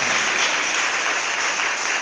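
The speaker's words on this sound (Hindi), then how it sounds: "ताली बजा के धन्यवाद हो यीशु मसीह को" A church congregation clapping hands in thanks during a worship service, a steady dense wash of applause sustained evenly throughout at fairly close range.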